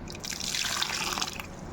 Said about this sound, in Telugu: ఇందులో కొద్దిగా వాటర్ పోసేసుకుందాము